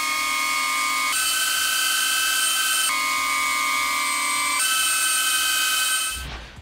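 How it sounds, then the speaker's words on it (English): DJI Avata drone with Master Airscrew 4-bladed props, a loud, close, high-pitched whine with tonal buzz that shifts in pitch several times as the throttle changes, then cuts off abruptly at the end. "What I think is actually more relevant is the pitch and the timbre of the sound of Master Airscrew props."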